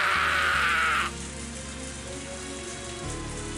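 Rain falling on mud in Higurashi When They Cry, a dense hiss of heavy downpour that drops to a softer, steady patter after the first second, with a low rumble joining near the end.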